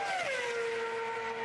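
Formula 1 race car at the 2006 Indianapolis Grand Prix, a high, continuous engine whine that drops in pitch as it passes close by, then holds a steady drone.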